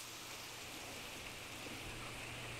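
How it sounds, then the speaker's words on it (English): Autumn rain falls steadily in the Volga Delta, a soft, even hiss of drops on surfaces with a faint low hum underneath, quiet and unbroken throughout. "It rains more frequently, and the cold wind starts blowing."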